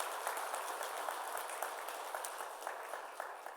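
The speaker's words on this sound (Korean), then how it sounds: "우리 격려 박수 한번 드리도록 하겠습니다." Church congregation applauds in encouragement during a Korean worship service, a steady, fairly faint wash of many hands clapping that continues evenly for a few seconds.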